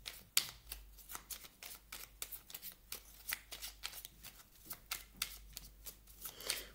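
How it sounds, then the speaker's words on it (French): Oracle cards being shuffled by hand, a quiet run of crisp riffling flutters and soft slaps repeating rapidly and close up, with no talk. "On va prendre une carte maintenant du petit oracle"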